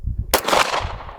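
A single loud, close pistol shot from a Canik SFX Rival cracks sharply out of low background noise and then trails off in a brief echoing decay.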